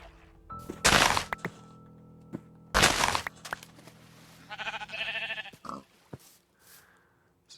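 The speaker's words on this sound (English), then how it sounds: "Hello, sheep." Sheep in a Minecraft-style video game bleat twice in loud, close calls, followed by softer thuds and a rough, rattling bleat-like burst, with quiet gaps between.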